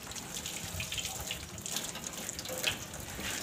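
Pressurised water spraying over a car engine bay while it is rinsed clean, a continuous hissing splash that runs steadily throughout with small shifts as the jet moves.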